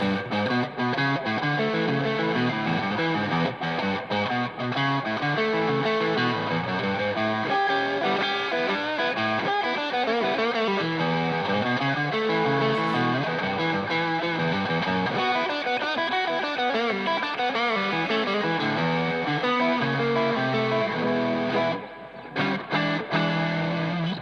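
An electric guitar played through a Tube Screamer overdrive pedal, a continuous distorted sequence of chords and notes sustained for the whole stretch, loud and close, with a brief dip near the end and no talk.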